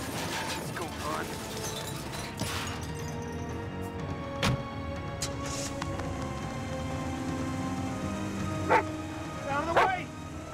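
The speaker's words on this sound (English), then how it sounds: "Stupid dog!" A dog barks and yips in bursts, then whimpers, close and loud over background rumble, with people shouting in alarm nearby.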